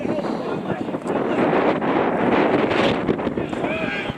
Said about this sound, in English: gusts of winds